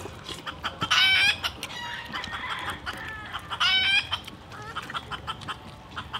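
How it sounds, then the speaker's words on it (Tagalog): Close native chickens cluck repeatedly outdoors, interrupted by two loud, drawn-out squawks, with softer clucking continuing steadily in between. "Manok. May manok."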